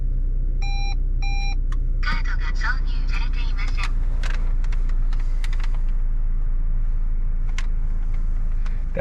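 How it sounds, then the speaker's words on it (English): A Japanese electronic toll card reader in a Toyota Estima (Previa) Aeras van sounds two short electronic chime tones, then gives a spoken voice announcement, all over the low, steady idle rumble of the van's engine. "That's just the Japanese electronic toll card reader that's speaking to me, telling me I don't have a toll card in there"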